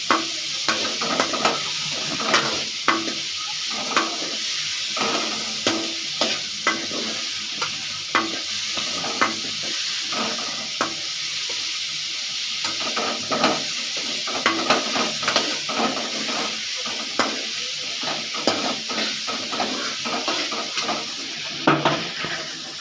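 Masala ingredients sauté in a pan under a constant sizzle while a utensil stirs and scrapes in a brisk, repeated rhythm of clinks and scrapes, close and fairly loud, with no talk.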